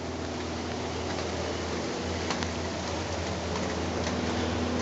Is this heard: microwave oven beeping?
no